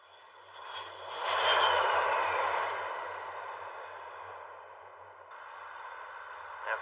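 Airplane engine roaring as a plane departs, swelling to a broad, loud rumble in the first two seconds, then easing into a steady, slowly fading drone with no talk over it.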